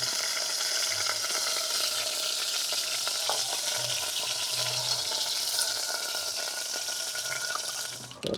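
Meat sears and browns in a hot pan at a camping site, a steady close, loud sizzle with a broad hiss running unbroken throughout, with faint clinks and scrapes beneath.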